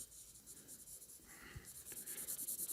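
A pencil shades a drawing on paper in soft, quiet, rhythmic scratching strokes that repeat steadily and grow slightly louder toward the end.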